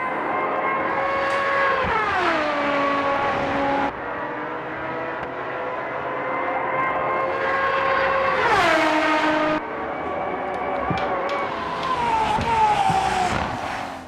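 The Valkyrie's V12 engine in Automobilista 2 screams at high revs, rising and falling through gear shifts with sharp downshift drops, loud and sustained with no talk.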